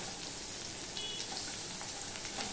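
Chopped onions go into hot oil, added after garlic while cooking a Bengali bata fish curry, and give a soft, steady sizzle and crackle that is quiet but continuous.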